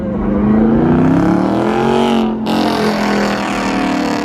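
A Dodge Charger engine revs hard and accelerates, its loud droning pitch climbing, briefly dropping as it shifts, then roaring on.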